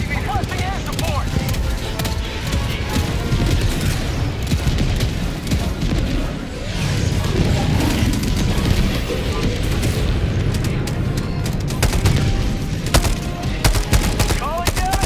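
In the game Helldivers 2, a rocket sentry keeps firing amid bursts of gunfire and booming explosions, a dense, loud barrage that never lets up, with someone talking over it.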